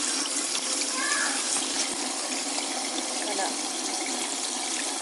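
Water runs steadily from a tap and drains down a freshly unclogged household sink, a continuous close rushing hiss with a brief spoken word over it.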